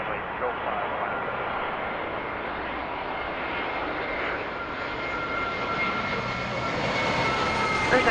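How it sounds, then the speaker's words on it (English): An Airbus A320 jet on approach to land at Toronto airport gives a steady, broad engine roar that holds for the whole stretch and swells slightly near the end, with faint radio talk underneath. "A320 coming in from San Francisco"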